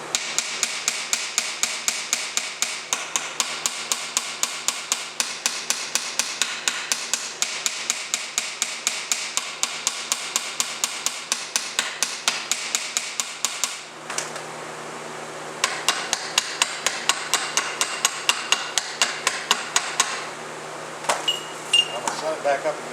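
A hammer taps repeatedly on the welds of a 2009 Pontiac G6 seat recline mechanism, giving a fast, even run of sharp metallic knocks up close that pauses briefly and then resumes.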